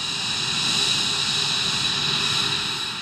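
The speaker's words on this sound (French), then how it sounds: "L'air de Langley se remplit du son des M88, Pratt & Whitney et autres Rolls-Royce sortant de leur torpeur." F-22, Typhoon and Rafale fighter jets with M88, Pratt & Whitney and Rolls-Royce engines starting up together at Langley, a loud continuous turbine whine and roar with a sustained high-pitched tone.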